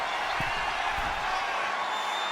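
In WWE 2K25 wrestling, an arena crowd roars in a dense, steady wash of cheering that stays loud for the whole moment, with a few low thuds beneath.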